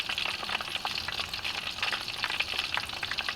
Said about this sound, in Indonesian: si tahunya itu sebelum kita tumis, kita oseng-oseng, bakal saya goreng juga setengah matang